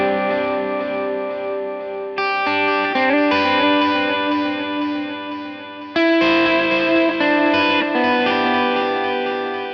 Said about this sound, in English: let's change up the delay a little bit